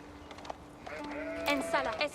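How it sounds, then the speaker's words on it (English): Sheep bleat in a real-time strategy game set in historical eras, several short tonal calls at moderate loudness mixed with game effects while players talk. "I love the sound of sheep, dude."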